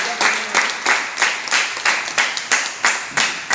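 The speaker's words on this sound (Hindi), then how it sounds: "जोरदार ताली होना चाहिए।" At a training session, an audience claps in unison, a loud, even beat of about three claps per second repeating steadily throughout, with no talk over it.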